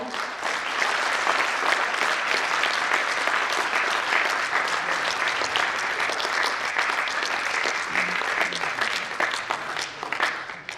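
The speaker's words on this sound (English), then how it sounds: "Can we strongly do a clapping? Can we clap loud?" Loud, sustained clapping from a crowd at an international sports and exercise medicine conference, dense and even for the whole stretch with a few voices faintly beneath.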